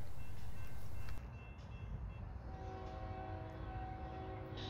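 A 12,000-foot CSX freight train approaches a junction at Pelham: a low, distant rumble with faint horn-like tones sounding far off, fairly quiet throughout and free of speech.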